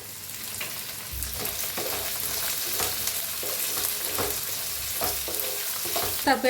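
Capsicum frying in a pan with carrots for a quick Marathi-style dish, a continuous near sizzle broken by the rhythmic scrape and clatter of stirring, no voices present.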